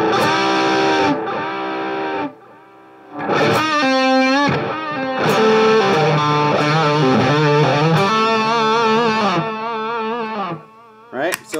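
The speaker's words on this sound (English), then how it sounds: "you can turn up the wow and flutter." An electric guitar runs through an effects pedal with wow and flutter turned up, sustained chords and notes wavering in pitch with a warbling, tape-like wobble, loud and close with short gaps between phrases.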